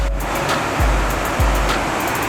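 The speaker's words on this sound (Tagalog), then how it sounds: "Maririnig sa malayo na sobrang lakas ng lagaslas ng tubig" Loud, steady roar of rushing water at Bustos Dam fills the scene, a constant heavy wash with no voices.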